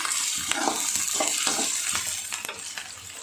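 Onion, garlic, green chili and curry leaves sauté in a pan for garlic kuzhambu, with a steady close sizzle broken by repeated scraping stirs of a spoon, no voices.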